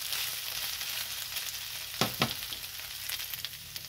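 Diced potato frying quietly in a covered pan over low heat while cooking ground-beef picadillo in healthy oil, a soft steady sizzle with a couple of brief louder crackles.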